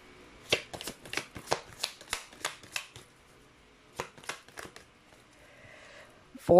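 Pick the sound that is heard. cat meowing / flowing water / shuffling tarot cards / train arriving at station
shuffling tarot cards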